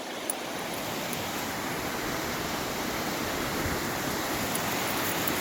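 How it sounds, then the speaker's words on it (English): Thorn Creek running fast in winter, a loud, constant rushing roar of water heard close by with no break and no voices. "we're gonna cross Thorn Creek here that's just rolling like crazy"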